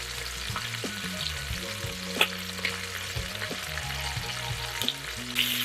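Oxtail pieces sizzle and fry steadily in a hot pan, a constant crackle with occasional louder pops, and a low hum runs underneath.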